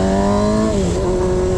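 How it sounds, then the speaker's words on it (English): A Yamaha R6 motorcycle engine held at high revs, a loud close, steady whine that drops slightly in pitch partway through and then holds. "running just fine, revs up nicely"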